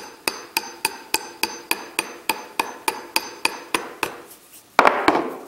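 A Harbor Freight rip hammer taps birch-wood toothpicks into small holes in a steady run of about fourteen sharp, evenly spaced knocks, close and alone, ending in a couple of heavier, ringing strikes.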